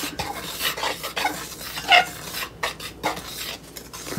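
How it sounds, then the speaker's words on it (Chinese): Chopsticks stir flour and quick-rising yeast in a mixing bowl, giving soft, scratchy scraping and light taps against the bowl, with one brighter clink near the middle. "然后用筷子把它稍微搅拌一下"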